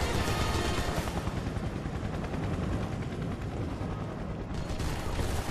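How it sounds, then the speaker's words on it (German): A helicopter in the video game Final Fantasy VII Remake makes a steady, loud, dense rotor drone mixed with rapid bursts like gunfire. The noise continues without pause. "Langsam kann dieser Helikopter mal weggehen."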